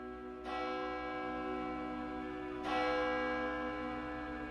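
A church bell tolling a death notice, two resonant strikes a couple of seconds apart, each ringing out with a long humming decay that overlaps the next, heard alone.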